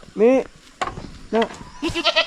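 A goat being chased on a rural farm gives several loud, wavering bleats in quick succession, close by, mixed with people shouting and talking over the commotion.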